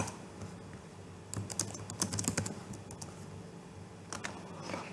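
Computer keyboard keys clicking in quick bursts while a network switch configuration is typed, close but quiet, with short pauses between runs of keystrokes.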